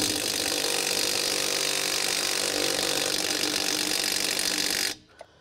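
A small impact driver fitted with a hex adapter strains against a truck lug nut, giving a loud, continuous, buzzing hammering rattle for about five seconds before cutting off abruptly into near silence.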